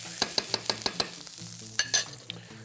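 Onion fries in a pan with a steady sizzle, broken by a series of sharp clicks and taps, probably a utensil stirring against the pan, close and fairly quiet with no talking.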